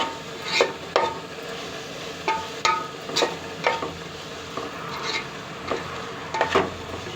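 Chicken and bitter gourd simmering in a coconut milk curry in a pan, a steady bubbling sizzle with repeated scraping stir strokes and spoon knocks against the pan, close and fairly loud with no talk.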